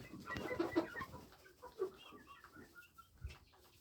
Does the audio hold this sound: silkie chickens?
yes